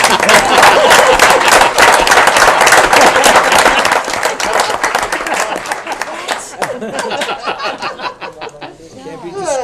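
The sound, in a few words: round of applause at public meeting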